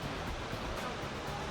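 Efrata waterfall in Samosir heard as a faint, steady wash of falling water, a continuous broadband roar with no distinct events.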